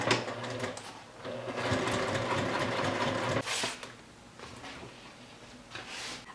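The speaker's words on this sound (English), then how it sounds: "so now I'm gonna sew this center front seam" Sewing machine stitching a center front seam, a fast steady mechanical whir in close bursts with brief pauses between runs.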